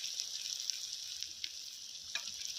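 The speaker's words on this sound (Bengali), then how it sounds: "মশলা ভালোভাবে তৈরি হয়ে গেছে এরপর দিয়ে দেবো ফুলকপি এবং আলু ভাজা" Steady sizzle of spices frying in a pan, with a few soft clicks and stirring scrapes as cauliflower and fried potato go in, a close, continuous hiss with no talk, cooked at night in a village kitchen.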